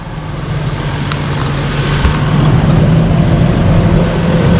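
A 2002 Ford F-150 pickup with about 220,000 miles runs steadily, a low, even engine hum with a constant drone and no revving, heard close and alone.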